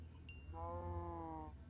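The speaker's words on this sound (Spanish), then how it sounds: "Escuché otra vaca y sí," A cow moos once in a video game, a drawn-out, close, clear call rising over a low background hum, preceded by a short high-pitched electronic chirp.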